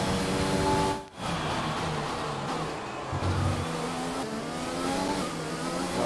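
F1 racing car engine in F1 2020 My Team at a wet Singapore round, a loud continuous high-revving whine that dips sharply on a gear change, then climbs and falls steadily with shifting pitch.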